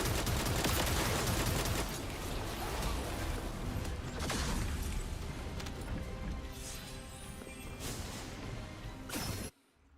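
Gunfire in the looter-shooter video game The First Descendant on PC, a dense, loud continuous barrage of shots and mechanical clatter with several sharper bursts, holding steady for about nine seconds before cutting out abruptly.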